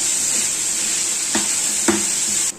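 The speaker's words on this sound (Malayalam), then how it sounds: "നമ്മുടെ സവാള, ഉള്ളി ഒന്ന് വഴറ്റി കൊടുക്കും." Onions and shallots sautéing with curry leaves in a pan, a loud steady close sizzle with two brief scrapes of a spoon stirring, cut off abruptly at the end.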